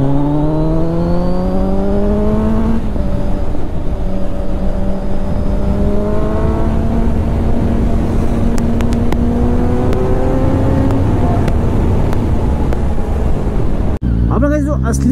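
Superbike exhaust droning steadily while riding with a gang on the Lava route near Siliguri, its rising harmonic note climbing through gear changes, loud and continuous with wind rush behind it.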